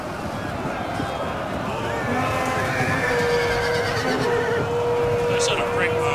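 Cavalry charging in the video game Total War Attila, a Vandals versus Langobards battle: horses whinny and neigh over a dense, constant battle din of hooves and clashing crowd noise, loud and sustained throughout.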